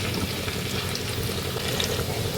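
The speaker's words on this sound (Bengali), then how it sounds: "যাতে নুডলসগুলো অল্প অল্প ভাজাও হয়ে যাবে।" Restaurant-style Chinese noodles sizzle steadily in a pan as they are pressed down to crisp lightly, a continuous close crackling hiss with faint scraping from a spatula and fork.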